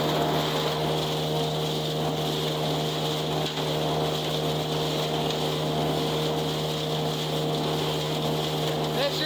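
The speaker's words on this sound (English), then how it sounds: "It ends up to this blower where it blows it out into a pile." A bale processor tub chops old hay while a blower sends it out into a pile, making a constant heavy mechanical roar with a steady hum. The noise stays loud and unbroken throughout, and there may be faint speech underneath.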